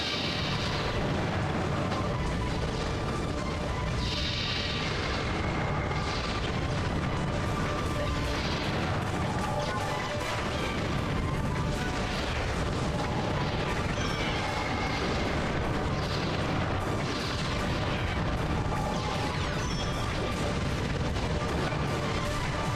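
Guns fire a rapid stream of shots in the robot battle game Custom Robo, dense booming blasts and crashes packed together at constant loud volume with no pauses and no talk.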